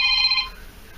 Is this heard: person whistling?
no